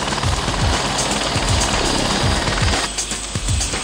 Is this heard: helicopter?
yes